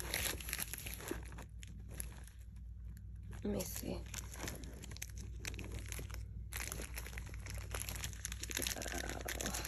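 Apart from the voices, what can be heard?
opening purse packaging by hand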